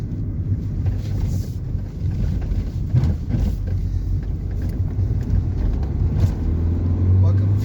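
The 1.5 dCi diesel engine of a 2014 Dacia Logan MCV drones steadily with low rumble and wind noise, the pitch slowly building as it pulls harder in third gear; road and cabin noise throughout.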